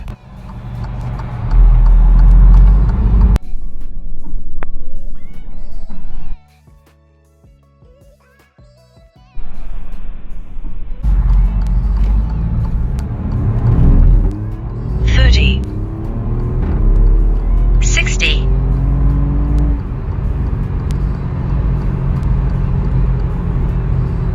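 A stock-tuned Alfa Romeo Giulia QV, with the JB4 tuner switched off, accelerates 0-60 in dynamic mode, its engine roaring loudly from inside the cabin through rising gears and a short lull, with someone talking over it.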